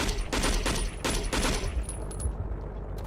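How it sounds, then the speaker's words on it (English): Gunfire from the video game Battlefield Vietnam: dense, overlapping bursts of rapid shots, loud and continuous, with the heaviest volleys early before thinning slightly toward the end. "Shoot this son of a bitch one more time"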